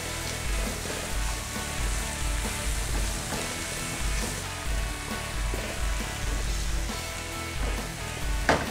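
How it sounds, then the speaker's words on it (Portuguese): Onion sautés in a pan with an unbroken, dense sizzle and crackle that stays loud and even the whole time, and no voices over it. "E agora dourar bem essa cebola"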